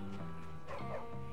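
A dog in the video game Bully gives a few short barks and yips amid background game music, moderately loud and close.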